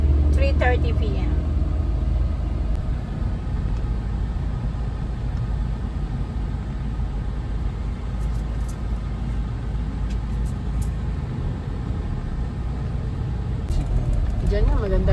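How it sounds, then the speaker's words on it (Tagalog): Road traffic rumbles steadily outside a van on the way to NLEX during a road trip toward Baguio City, a low continuous engine drone with a voice talking over it. "Medyo matraffic ngayon dito."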